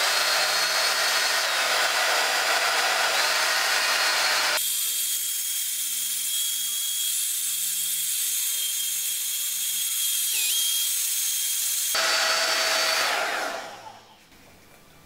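Handheld hair dryer with three intensity settings blowing on a wet lock of hair: a loud, steady broadband whoosh with a whining motor tone, shifting to a lower setting midway, then back up before cutting off near the end.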